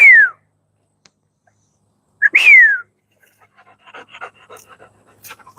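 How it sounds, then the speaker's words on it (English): Livestock guardian dogs on a farm pant in soft, quick rhythmic bursts, quiet and somewhat distant, after two sharp descending whistles ring out nearby. "Those are livestock guardian dogs."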